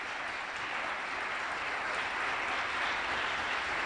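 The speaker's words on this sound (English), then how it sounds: "give them another round of applause, all of us" Sustained applause from an audience at a Chicano Latino youth leadership event, a dense, even wash of clapping that holds steady at full volume for the whole stretch with no voices standing out.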